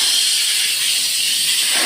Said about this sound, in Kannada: ಇನ್ನೇನು ಕುಕ್ಕರ್ ಕೂಗ್ತಾಯಿತ್ತು.